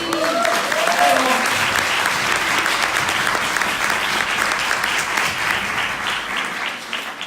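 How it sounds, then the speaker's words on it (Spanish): A seminar audience at a BodyLogic health presentation breaks into loud, sustained clapping that holds steady for several seconds and then begins to thin toward the end. "¿Merece o no merece un aplauso?"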